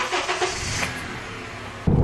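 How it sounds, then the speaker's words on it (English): A car out on a test drive after a synthetic AMSOIL fluid change gives a steady engine and road hum from inside, with a sudden louder low rumble at the very end; nobody speaks. "we're doing our test drive here"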